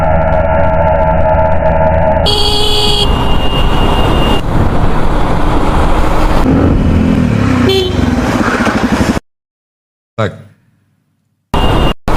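Car horn blasts ring out amid busy street traffic and a motorcycle engine in Istanbul's Kadıköy, near an accident. Loud, close honks stand over the roadway roar before the sound cuts abruptly to silence.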